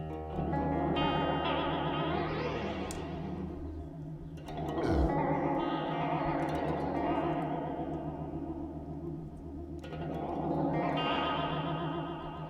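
A Belle Epoch delay pedal on an instrument gives lush, vibrato-like modulated repeats that swell and smear into one another, with strong echo tails and a brief louder burst midway, heard alone without talk.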